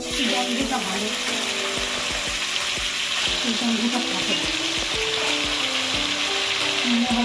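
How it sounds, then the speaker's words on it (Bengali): Broiler chicken meat fries in oil in a pan, a dense continuous sizzle close up with faint stirring taps and music playing in the background. "একটু ভেজে নিচ্ছি ব্রয়লার মুরগির মাংস"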